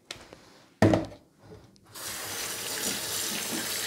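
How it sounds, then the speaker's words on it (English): Steady running tap water pours into a kitchen sink while food is washed under the stream, starting after a brief splash and a clunk, then flowing continuously and fairly loud. "Make sure that you always wash under running water."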